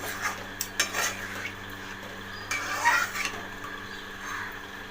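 A spoon scrapes and clinks against a pan while chicken keema cooks with potatoes in a little water, giving a few irregular stir strokes over a soft simmering sizzle, with no voices.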